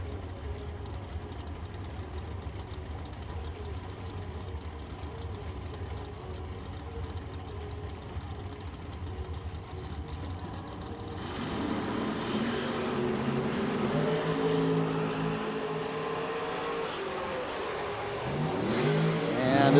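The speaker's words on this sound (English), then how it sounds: "Brandon driving the dragster down 467. 620 for Clark in the S10." Drag racing at a Super Pro event as a dragster and a Chevrolet S10 launch down the strip, a steady engine drone giving way to louder, rising roaring passes that build toward the end, with faint voices underneath.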